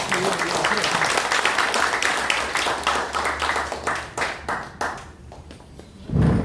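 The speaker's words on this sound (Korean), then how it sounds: "박수." Audience clapping at a party founding convention in Daegu, a dense, loud round of applause from a sizable crowd that thins and tapers toward the end, ending in a brief low thump.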